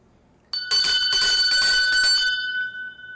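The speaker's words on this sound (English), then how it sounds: "Let me ring that bell for her." A bright bell rings out loudly several times in quick succession, then its clear tone lingers and fades away.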